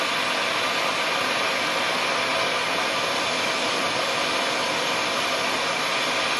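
Torch flame roaring steadily as it heats the middle of a lockpick blade, a loud, even, close hiss with no pauses.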